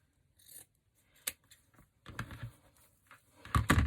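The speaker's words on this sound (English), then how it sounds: "I just fold it in half and cut a V out." Scissors snip through folded wreath ribbon to cut a V-shaped dovetail end, a few close, crisp shearing snips and rustles of ribbon at an uneven pace, with quiet gaps between cuts.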